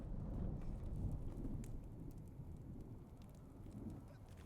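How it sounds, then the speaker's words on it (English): A low, steady roaring wind of an approaching large sandstorm in the video game Dune Awakening, a constant rumbling wash with faint crackling grit, moderately quiet and without talking. "Sector weather alert. A large sandstorm is approaching."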